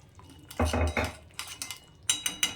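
Ground garam masala and ghee being stirred into a soybean mutha mixture in a pot, giving a short run of metal spoon scrapes and clinks against the pan, close and fairly loud, with no voices.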